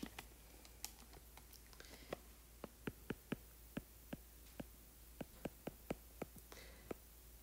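Numbers tapped into a calculator or keyboard: a run of quiet, sharp clicks in an irregular rhythm, close and alone over a faint hum.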